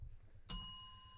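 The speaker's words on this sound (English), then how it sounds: "Hit the bell." A single bright bell ding strikes sharply once and rings out with a clear, sustained metallic tone that slowly fades, against a faint low background.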